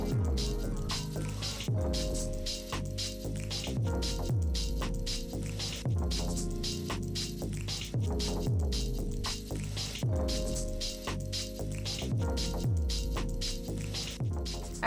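Steady wet squishing and swishing as makeup brushes are worked in warm water, repeating in a quick rhythm for the whole stretch, close up and moderately quiet.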